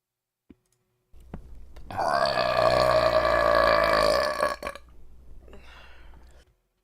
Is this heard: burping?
yes